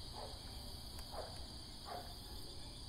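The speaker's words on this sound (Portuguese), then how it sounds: "só escuta barulho de grilo" Steady high-pitched cricket chirping fills the background at night by a lake, a continuous insect trill with faint low rustling beneath, no voices.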